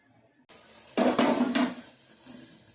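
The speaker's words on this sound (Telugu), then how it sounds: "ఉల్లిపాయ కొద్దిగా వేగనిద్దాం. కొద్దిసేపు వేగనిద్దాం." Sliced onion drops into a hot pan and starts sizzling steadily, punctuated by a few bursts of scraping and stirring against the metal, then the frying hiss settles, with no voices.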